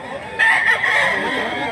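A white leg rooster, a gamefowl around 2 kilos, gives a single loud, close crow lasting over a second, rising sharply then holding and fading slightly, with no talk over it.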